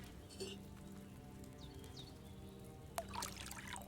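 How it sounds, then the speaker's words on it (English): In a medieval video game, wine is poured into a cauldron with a faint, brief trickling splash over a quiet background hum. "So, what did you pour in there? Wine, of course."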